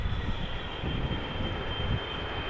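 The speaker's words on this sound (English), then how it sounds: "This is the first of two consecutive 777-300 ERs from KLM." A KLM Boeing 777-300ER landing at Amsterdam Schiphol in crosswind conditions, its engines giving a steady, fairly distant low roar with a rumbling, slightly fluctuating texture.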